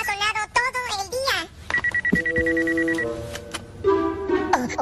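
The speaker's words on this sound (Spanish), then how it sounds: "El teléfono ha sonado todo el día." A telephone rings with steady electronic tones in an animated chipmunk cartoon, mixed in among high-pitched cartoon voices talking before and around the ring.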